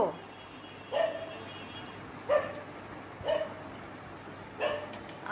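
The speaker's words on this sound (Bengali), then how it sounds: "ওই ওদের দেখে কুকুরগুলো কি আর চিৎকার করছে" Dogs barking at electricity supply workers, four separate bursts of barking spaced about a second apart, moderately loud over a steady background hum.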